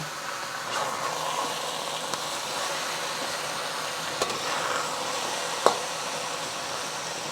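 Pork belly sears in a wok for a Cantonese stir fry, giving a loud, steady broadband sizzle with occasional sharp pops and clicks.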